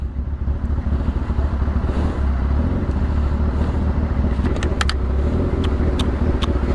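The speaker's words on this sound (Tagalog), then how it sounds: "Mahaba itong traffic na to." Long, slow road traffic with cars and motorcycles makes a steady, loud engine rumble close by, with a few sharp clicks and clatters near the end.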